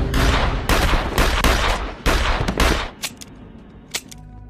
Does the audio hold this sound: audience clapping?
no